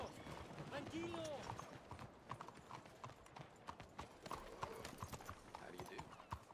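In the video game Red Dead Redemption 2, horse hooves clip-clop in a quick, steady rhythm, close and clear, with a short whinny near the start and voices talking over the hoofbeats.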